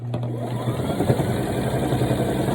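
A sewing machine stitches fringe onto a garment border, running in a fast continuous mechanical whir with a steady low hum, close and moderately loud with no talk.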